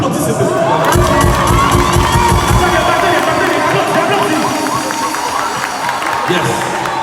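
A large crowd at a live foundation event cheers and shouts loudly, children's voices prominent amid dense hubbub and clapping that carries on throughout.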